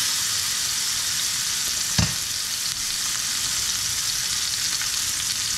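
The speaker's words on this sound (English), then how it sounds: "So about now is the perfect time I'm going to add my steak." Steak laid into smoking hot oil in a fry pan, a steady loud sizzle throughout with a brief thump and flare of crackling as the meat goes down, no voices.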